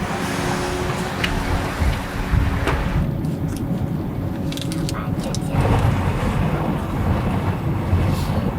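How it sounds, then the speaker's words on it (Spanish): Steady roaring sandstorm wind buffets the microphone, with a broad rushing noise that swells in gusts throughout, heavy and close, with no clear voices. "Parece que se ha formado otra tormenta de arena"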